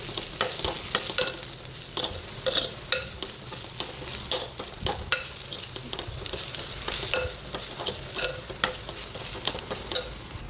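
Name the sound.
stirring chili powder into sardine curry masala in pan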